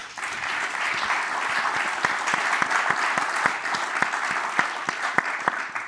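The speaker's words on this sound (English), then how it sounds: "Can I ask that we please give them a round of applause?" Audience at a Lagos panel session on cities gives the panelists a round of applause, dense, sustained clapping with distinct sharp claps standing out, near and continuous throughout.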